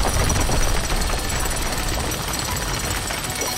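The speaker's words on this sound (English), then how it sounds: "You're going to break the cement using your drill?" A cartoon drill breaks dry cement, a dense, continuous hammering rattle that stays loud and steady from start to finish, with no talking.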